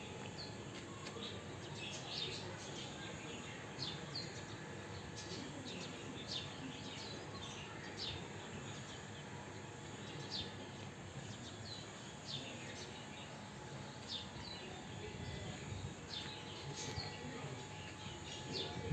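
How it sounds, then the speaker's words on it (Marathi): Sparrows chirp faintly around a garden bird bath set up for bathing, scattered short tweets against a soft, steady outdoor background, distant and quiet throughout. "इथं चिमण्यांना इथं आंघोळीला स्विमिंग पूल केलं आहे"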